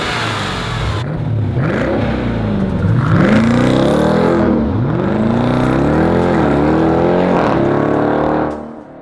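A 2018 Jeep Grand Cherokee Trackhawk with a 707 hp supercharged Hellcat engine launches hard, its loud engine climbing through repeated rising pitch sweeps between gear shifts before cutting off abruptly.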